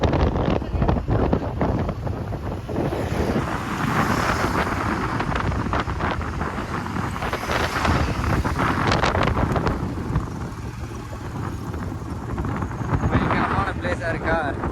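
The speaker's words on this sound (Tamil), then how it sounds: "நல்லா காற்றடிக்குது." Strong wind ahead of coming rain roars steadily and loudly across the microphone for the whole stretch, with gusty swells and no clear talk over it.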